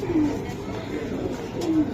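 Pigeons at a Bangladeshi market coo in two low, drawn-out calls, one near the start and one near the end, close by over a soft background murmur.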